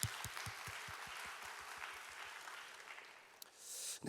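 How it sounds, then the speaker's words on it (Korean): A church youth congregation applauds during a worship service, a faint, distant hiss of clapping that fades slightly, with soft low thumps repeating early on. "단선팀 위해서도 우리 박수하겠습니다"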